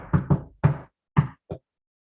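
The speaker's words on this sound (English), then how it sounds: "there was a knock on the palace door" Knocking on a palace door: two quick raps, a pause, one firm rap, then two more spaced knocks, close, crisp and alone with no talk.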